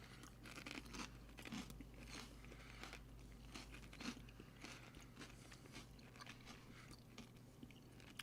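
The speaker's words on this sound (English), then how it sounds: "I heard you chewing." A person chews crunchy chips close to the mic, with irregular crisp bites and crunches repeating over a steady low hum, no voices.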